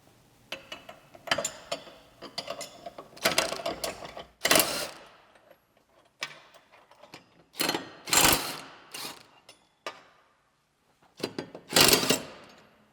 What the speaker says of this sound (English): First, I'll remove the blades.